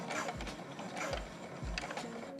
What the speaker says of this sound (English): sew it in place with a straight stitch.